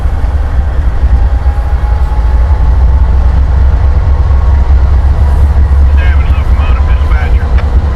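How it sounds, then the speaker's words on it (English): A CSX freight train rumbles past trackside at the north end of a rail yard, loud and continuous low roar with wheel squeals near the end, a voice talking over it. "This is 367 dropping his train at the north end of the debug yard."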